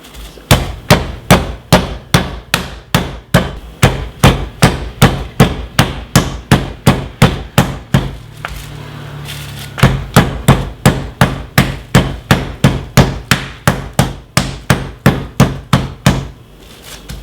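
Raw chicken breasts are pounded thin with a mallet, a loud, steady run of rapid thuds close by, broken by a brief pause midway before the rhythmic whacking resumes.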